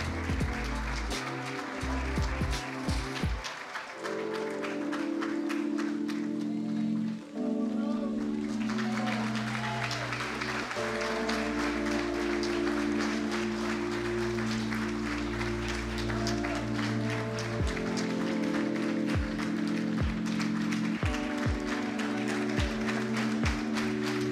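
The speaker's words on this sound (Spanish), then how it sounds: "Mientras los aplausos continúan, vamos a pedir que se hagan más fuertes." A university graduation ceremony audience applauding at length, sustained crowd clapping beneath music and amplified voices over a hall sound system.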